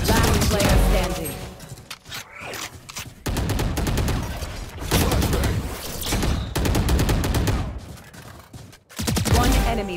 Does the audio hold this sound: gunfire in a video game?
yes